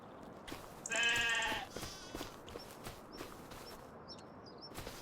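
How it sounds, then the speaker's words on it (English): A goat on a farm in the Farming Simulator 25 video game lets out a single short, nasal bleat, fairly near against a quiet outdoor background with faint bird chirps and soft footsteps. "we do have some goats as well"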